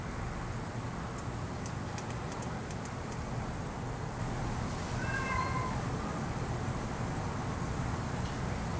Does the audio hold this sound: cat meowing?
yes